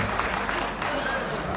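An audience applauds at a music tribute event for actor Sivaji Ganesan, a steady wash of clapping that fills the whole moment at moderate loudness.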